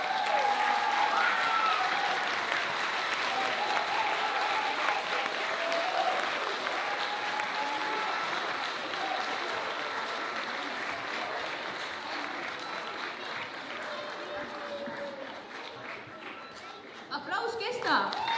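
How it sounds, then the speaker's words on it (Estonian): A school audience at a playback lip-sync show in Estonia applauds continuously, a dense wash of clapping with scattered cheers and crowd chatter, slowly thinning toward the end as a voice begins. "Aplaus kestab!"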